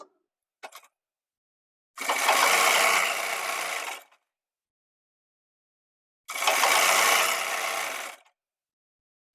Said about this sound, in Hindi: इसमें हम सिलाई लगा लेते हैं